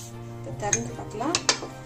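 A metal pot lid is lifted from a pot of corn biryani in a home kitchen, with a couple of quick clinks and clatters close by while someone talks.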